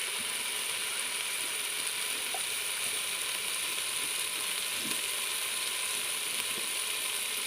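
Ginger garlic paste and ground turmeric fry in a pan for a bitter gourd and masoor dal, giving a steady soft sizzle throughout with a few faint clicks and scrapes, no talking.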